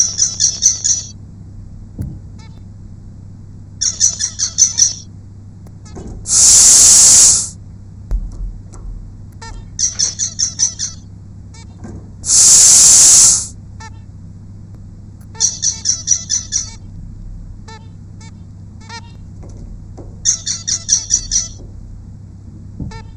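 A lab bird gives a run of short squawking calls in regular clusters, interrupted twice by a loud hissing air puff, recorded in a quiet experimental setting.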